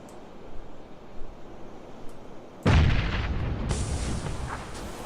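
Grenades go off in a competitive video game match: a quiet low rumble, then one sudden loud blast that leaves a broad, lingering roar of noise.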